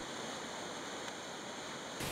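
A waterfall just upstream of a cabin on the Skeena River, where pink salmon leap, pours as a steady, dense broadband rush that stays constant throughout with no voices.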